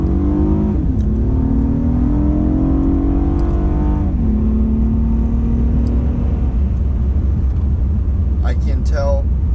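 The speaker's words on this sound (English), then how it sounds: "we want to get a quick acceleration with the new tires here" A 2008 Acura TL Type S on new tires accelerates hard, its engine note climbing and shifting through gears in a loud, steady roar from inside the car, with a brief high squeal near the end.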